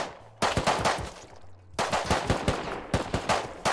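Rapid bursts of automatic gunfire in the survival game Rust, two long volleys of sharp repeated shots separated by a brief lull, loud and close with no talk over them.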